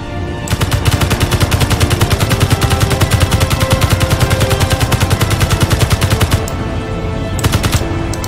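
Rapid automatic gunfire from the Space Engineers video game hammers at a turret in one long, loud, evenly spaced burst that goes on almost without a break.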